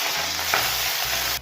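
Potatoes, carrots and semolina fry and get stirred in a pan for a village-style upma, a continuous close sizzle with scraping stir strokes and no voices.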